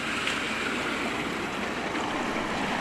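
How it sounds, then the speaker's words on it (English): A 4WD Nissan Patrol making a three-point turn in a Cape York creek, heard as steady broadband rushing water and splashing that fills the whole clip without pause, with no distinct engine note standing out. "As Mark does a 3-point turn in the creek"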